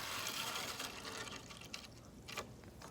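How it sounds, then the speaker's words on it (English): Water pushed from a 35 ml syringe into a cup, a steady liquid fill and splash lasting a few seconds, moderately close and fairly quiet, with no talking. "I'm going to draw up 35 milliliters of water. This is full of water now, and I'm going to put it in the cup."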